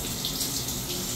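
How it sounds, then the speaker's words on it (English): A rainforest-mode shower in a Celebrity Aqua Sky Suite aboard a cruise ship runs in a steady, hissing stream of water, close and constant with no voices. "you get the rainforest shower mode. The flow of water is pretty good"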